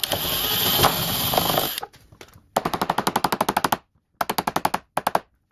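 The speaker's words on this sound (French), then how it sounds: "je reprends la perceuse et je vais le percer" A power drill drilling into a door lock cylinder whines loudly and steadily, then breaks into rapid rattling bursts of hammering pulses separated by brief pauses.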